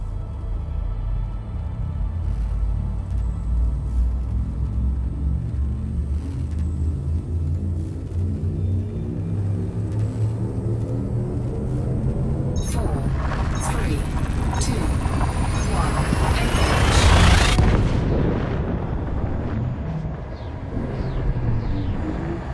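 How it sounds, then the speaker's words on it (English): In the Elite Dangerous space game, a frameshift drive charges up with a deep rumbling hum whose tones rise steadily, swelling into a loud roaring whoosh as the ship jumps, then easing off, with a voice speaking over it. "Frameshift drive charging."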